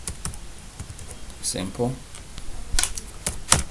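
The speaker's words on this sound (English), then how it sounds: "Let me just type that out." Scattered keystrokes and clicks on a computer keyboard, irregular taps typed in short bursts, close and crisp, with a brief spoken word partway through.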